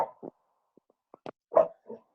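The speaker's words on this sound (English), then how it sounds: "No, it's my dog." A dog barks and yips several times in short, sharp bursts, close to a computer microphone during an online virtual happy hour call, with brief quiet gaps between barks.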